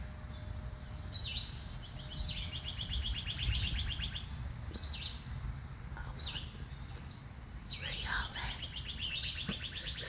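Wild birds chirping at a backyard bird feeder on a morning, with scattered short tweets and a few brighter bursts of calls over a low outdoor rumble.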